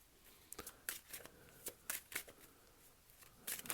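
Tarot cards being shuffled up close, with a series of crisp, quiet riffling bursts and soft slaps in an irregular rhythm, with no other sound around them.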